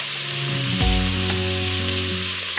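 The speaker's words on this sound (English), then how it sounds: "then we're gonna throw it in here and sear it" Seasoned beef seasoned with black pepper sears in a hot pan, a close, dense crackling sizzle with a brief stir or shift of the meat near the start and no speech.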